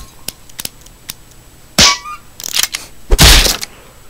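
Gunshot in the Henry Stickmin video game: a couple of sharp cartoonish cracks with short bursts of noise, among scattered small clicks, with no talk.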